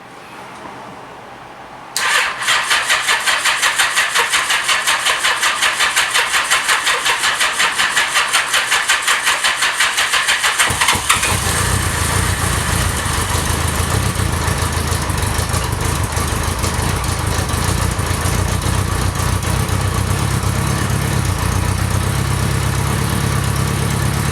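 A Honda Gold Wing motorcycle engine, choke on and in neutral, cranks briefly, fires up, and settles into a steady, loud idle with a fast, even putter that continues alone.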